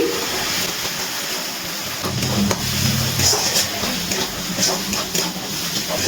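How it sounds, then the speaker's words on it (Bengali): Spice masala for chicken do pyaza stir-fried in a pan over a high gas flame, giving a steady close sizzle with scattered scraping knocks from the stirring spoon, no voices. "মশলাটা আমি ভালো করে একটু নাড়াচাড়া করে কষিয়ে নিচ্ছি"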